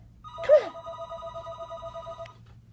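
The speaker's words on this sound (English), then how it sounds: "Where's the phone? Where's the phone? Get the phone, Soda." A telephone rings once with a clear electronic tone, a single burst that trails off as steady background hum continues, with no talk over it.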